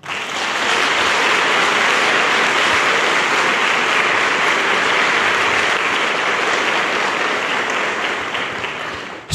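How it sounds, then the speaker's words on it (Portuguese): A congregation at a Lenten retreat sermon bursts into sustained applause, a loud, dense and even roar of clapping filling the whole stretch before tapering slightly at the close. "Aplaude José"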